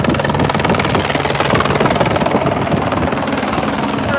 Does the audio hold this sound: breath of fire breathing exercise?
no